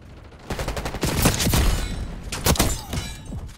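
Shotgun blasts crack in quick succession during a Black Ops 6 multiplayer match, several loud sharp shots with heavy thumps and debris clatter, close and punchy.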